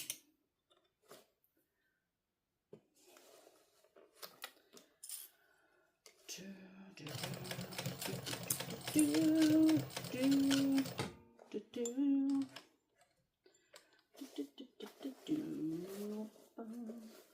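A sewing machine runs in a short continuous stitching burst of a few seconds as it works on an Acacia crossbody bag. Quieter clicks and handling come before and after it, and someone talks around it.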